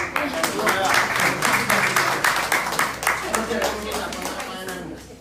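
Audience applause fills a fellowship gathering, dense rhythmic clapping from many hands that swells, holds steady, then thins and fades toward the end, with voices murmuring underneath.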